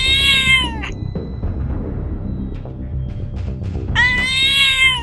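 A black cat meows loudly and close by, once at the start and again near the end, with a low rumbling background between.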